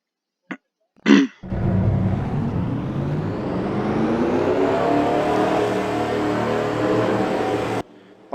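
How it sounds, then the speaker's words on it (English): A field of race cars fires up at the start of a ZSS race in Orlando. A couple of short bursts come first, then a sustained, loud engine drone rises and holds for several seconds before cutting off. "Drivers, start your engines!"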